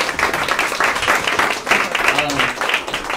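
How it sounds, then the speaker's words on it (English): An audience at a community meeting on immigration reform applauds a presentation, with dense, steady clapping close by that rises and dips slightly across the few seconds, with faint voices mixed in. "Let's give everyone a round of applause for your presentation."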